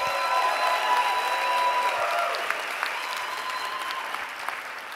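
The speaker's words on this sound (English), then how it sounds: "a big round of applause for Vanna White, a.k.a. Auden Hughes" Audience applause at a live presentation night, a dense, steady wash of many hands clapping that fills the room, holding strong and then tapering slightly, with a faint whistle early on.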